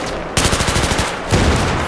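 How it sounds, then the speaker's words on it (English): A heavy machine gun in Battlefield 3 rattles off a rapid close burst of shots in a tight rhythm, breaking off briefly and then resuming with another loud burst. "I'm up here with, the heavy machine gun"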